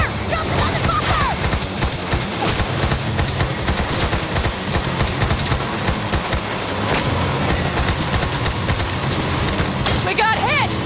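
Sustained loud automatic gunfire in a Cyberpunk 2077 shootout, dense overlapping machine-gun bursts running continuously throughout, with shouting voices mixed in.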